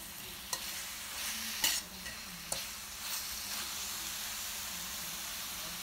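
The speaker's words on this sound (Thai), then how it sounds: "ขั้นตอนนี้นะคะเราจะค่อยๆผัดให้เครื่องแกงนะคะเข้าไปเคลือบที่เนื้อปลาทูที่เราทอดกรอบไว้ค่ะ" Crispy fried mackerel being stir-fried with southern Thai curry paste in a hot pan, a steady close sizzle with occasional scraping clinks of the spatula; no talking.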